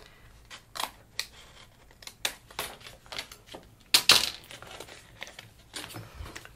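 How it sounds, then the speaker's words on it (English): Scissors trimming excess card from an origami gift bag, a series of separate close snips and papery crinkles with short pauses between them, a sharper louder cut near the middle. "With that excess bit of card. I'm just going to trim that off."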